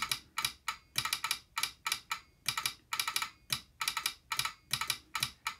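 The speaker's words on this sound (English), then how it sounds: "I'm using a World War II JT38 key" World War II JT38 telegraph key tapping out Morse code, a quick uneven train of sharp, close clicks in bursts with short gaps, no voices.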